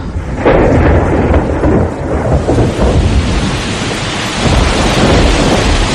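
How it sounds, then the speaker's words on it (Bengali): Thunderstorm with heavy downpour used as an effect in a Bengali horror audio drama: loud, continuous dense rain with deep rolling thunder rumbles swelling through it, close and full, with no voices. "সেদিন সন্ধ্যের পর থেকে মুষলধারে বৃষ্টি নামল।"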